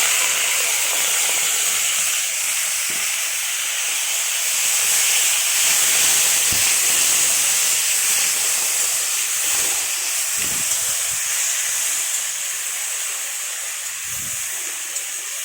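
Steady loud hiss of banana stem frying in hot oil with black cumin and chilli, a continuous steamy sizzle with a few soft knocks and no talking.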